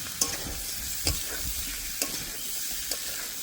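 Chana dal with potatoes and pointed gourd fries in oil as a spoon stirs it, a soft steady sizzle broken by a few sharp scraping strokes against the pan.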